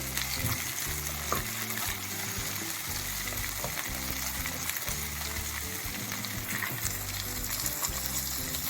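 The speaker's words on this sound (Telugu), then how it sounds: "దాంతో పచ్చి బఠానీ కూడా వేసుకోవాలి మొత్తం ఇవన్నీ వేగాలి" Chopped vegetables, ginger and green peas fry in oil in a pan for vermicelli upma, producing a loud, continuous close-up sizzle with faint music underneath.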